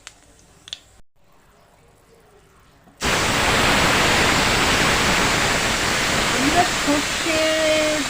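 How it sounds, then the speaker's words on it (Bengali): Spice paste hitting hot mustard oil in a pan, a sudden loud hissing sizzle that starts after a quiet stretch and keeps going steadily, close up. "এবার আমি পেস্ট করে রাখা মশলাটা দিয়ে দেবো"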